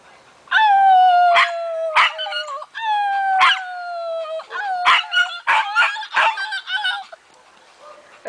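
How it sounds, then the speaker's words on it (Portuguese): Two dogs howl together at close range, long wavering wails that slide downward, rise again and overlap, with short breaks between them and no speech over them. "As duas estão uivando."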